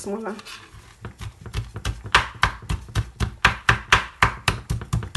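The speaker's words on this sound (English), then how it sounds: "So I'm cutting this one to smaller." Knife chopping salt fish into smaller pieces on a board, a steady run of sharp, close taps repeating in quick rhythm with a brief voice at the start.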